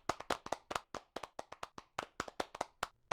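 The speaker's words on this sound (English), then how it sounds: "We can applaud you." Clapping from a small audience at the close of a conference talk on perception and cognition: sparse, uneven claps with audible gaps between them, fairly close and moderately loud, no voices.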